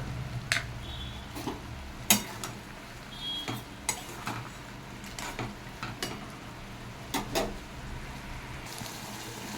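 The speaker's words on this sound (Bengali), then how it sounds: "মশলাটাকে ভালো করে কষিয়ে নেব" Spice paste of soaked chili, cumin and turmeric with salt and a little sugar, stirred and sautéed in a pan for a papaya and potato curry: a steady low sizzle broken by repeated sharp scrapes and clinks of a spatula against the pan.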